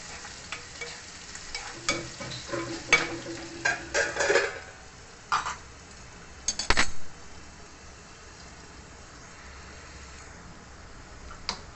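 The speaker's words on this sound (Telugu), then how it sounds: "మూత పెట్టి వేయించుకుందాము. మధ్యలో మధ్యలో కలుపుతూ మాడిపోకుండా చూసుకోవాలండి." Small pieces of bitter gourd frying in a covered pan, a soft steady sizzle broken by a few bursts of scraping and clinking as a spoon stirs, then settling back to quiet frying.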